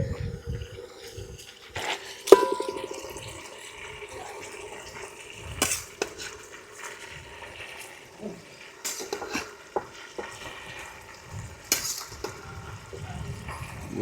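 Ackee stirs and sizzles in a pot on a Jamaican stove, with a spoon clinking and scraping against the metal in scattered bursts over a low, steady frying hiss.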